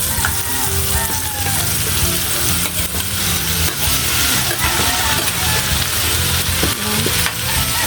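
Baguio beans and mixed vegetables stir-frying in a pan, a steady loud sizzle with scraping and clattering of the spatula throughout, no voices.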